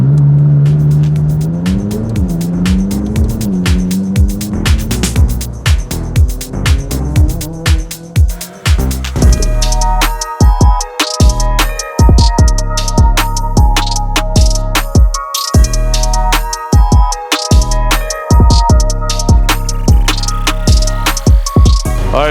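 A tuned McLaren 570S sports car, boosted by about 150 hp, revs up through rising gear pulls, then shifts sharply and roars loud and close with hard acceleration and crackling breaks between shifts.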